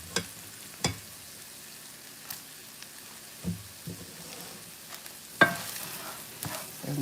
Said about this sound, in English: Now I'm adding my rice to this skillet.